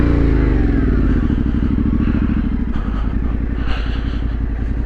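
A motorcycle ridden along a clay-based green lane trail, with a loud, close engine that putters rhythmically and revs and chugs over uneven ground, with occasional clattering knocks.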